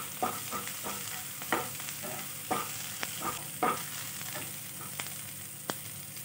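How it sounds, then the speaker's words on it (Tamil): Green chilli, onion and curry leaves sizzle steadily in a pan, with a spoon or spatula scraping and stirring at an irregular rhythm every second or so, close by and with no talking. "போட்டு நல்லா வதக்கிடுவோம். பச்சை மிளகாவும் வெங்காயமும் நல்லா வதங்கிடுது."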